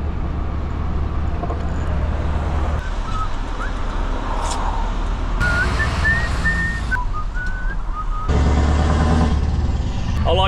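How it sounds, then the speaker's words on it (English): Steady low rumble of heavy lorry engines idling and creeping in traffic beside a truck cab, with a whistle-like tone and a honk rising above the drone. "I like sitting beside lorries in traffic. You get the reverberations."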